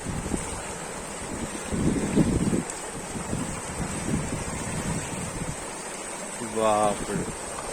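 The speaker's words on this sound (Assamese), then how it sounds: "এতিয়া চাওক পানীৰ শব্দ চাওক" Steady roar of a fast-flowing hill river with gusty, broadband wash, and a brief voice near the end, in the Arunachal hills.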